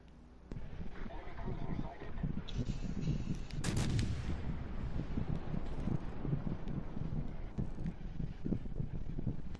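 Ship guns firing in a naval battle game with cruisers, destroyers and a battleship: heavy booming reports over a rumbling, wind-like background, with voices talking throughout.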